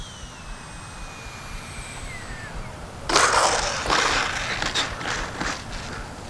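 Freewing Yak-130 RC jet's electric ducted-fan motor passing in flight: a faint distant whine at first, then a loud, rushing roar sweeps in midway and fades unevenly, with no talk.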